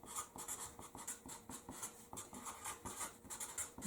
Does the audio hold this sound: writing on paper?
yes